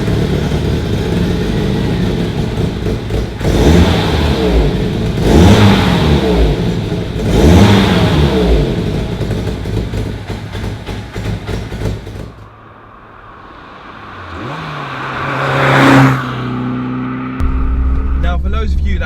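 A Peugeot 205 GTi Dimma's engine runs near and loud, rising and falling through several hard revs, then drops away before a final surging rev and a settled idle, with someone talking over it.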